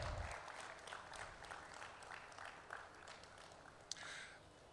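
Audience applause at the Ghana Automotive Summit, a steady, fairly faint wash of clapping from a crowd in a hall, continuing evenly throughout.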